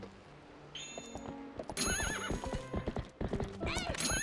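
Horse hooves clip-clopping in a Zelda video game, with a loud neigh and whinnying over steady in-game background sound, the hoofbeats continuing rhythmically throughout.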